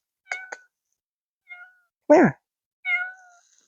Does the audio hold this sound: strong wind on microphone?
no